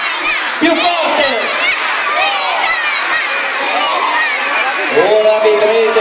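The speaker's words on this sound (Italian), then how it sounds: "la dovrete chiamare ancora una volta Befana. Dai, più forte" A large crowd of children shouts loudly and continuously together, calling for the Befana at an Epiphany celebration in Cannara, with high excited voices filling the whole stretch.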